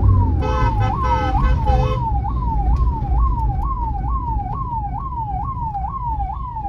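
A loud ambulance siren wails in a fast rising-and-falling cycle, continuous and close, over road rumble in Dehradun; a brief electronic tone sounds at the start.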